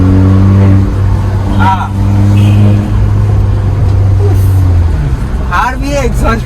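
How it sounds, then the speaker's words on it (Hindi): Loud exhaust from a modified Mahindra Thar petrol running through manual downshifts, with heavy cabin drone, rising and falling engine pitch and brief crackles, heard up close while someone talks over it. "इसको करते मैनुअल पे एंड करते डाउन शिफ्ट।"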